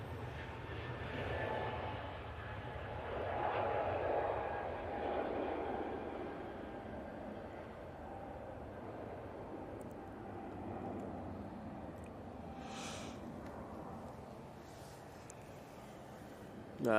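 EasyJet Airbus A321neo on its takeoff roll at Manchester Airport, a steady distant jet roar swelling slightly and holding as a broad rumble throughout, with faint background noise.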